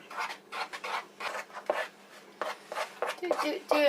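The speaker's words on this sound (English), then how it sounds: "You just want to give that a stir and coat those raisins." A spoon stirs raisins through dry flour mix for Welsh cakes in a bowl, repeated soft scraping and rubbing strokes in an uneven rhythm, close and fairly quiet.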